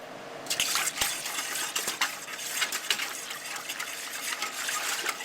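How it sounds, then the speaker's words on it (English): Spices being stirred into a thin liquid in a pot, a soft continuous swishing with light metallic clinks of a utensil against the side, fairly quiet and close. "So let's get this mixed up and boil it for the steep."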